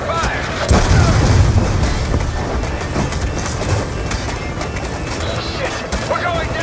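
Call of Duty: Black Ops II combat with dense rattling gunfire and booming explosions, loud and continuous, with shouted voices mixed into the chaos.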